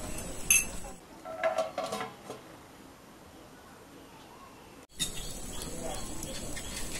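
A lid clatters onto a pot of rasmalai cheese balls simmering in thin sugar syrup, a few metallic clinks of cookware followed by a quiet stretch and then a low steady hiss of cooking.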